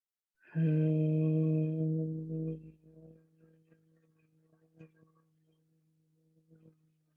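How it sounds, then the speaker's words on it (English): A single low, steady hum on the exhale during a chair yoga breathing exercise rings out for about two seconds, then fades into near silence with faint soft breathing and small noises. "Take your inhalation, exhale, and a low hum."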